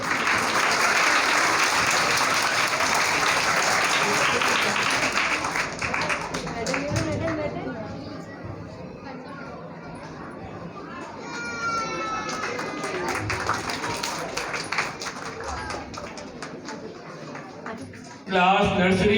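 Students at an Islamic school applaud in a thick burst of clapping that dies away after about seven seconds, leaving quieter room sound and talking, with a short loud sound at the very end.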